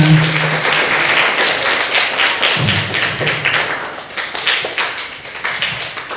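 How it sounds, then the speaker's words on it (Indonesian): Junior high students clapping together in a school hall during a talk on waste, loud dense applause that keeps going throughout and breaks into looser, uneven claps near the end. "Tepuk tangan untuk kita semuanya."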